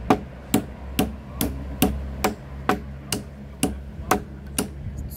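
A hammer drives a nail into wood while building a treehouse: about a dozen sharp, evenly spaced blows, close and loud, with no talk.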